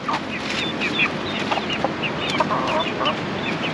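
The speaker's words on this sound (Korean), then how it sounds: "저기선 닭을 그냥 이렇게 키우네 아 그냥 야생인가?" Several chickens cluck and chatter continuously over a steady outdoor background, with no voices.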